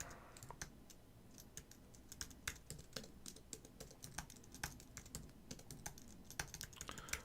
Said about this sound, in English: I really don't like typing this over and over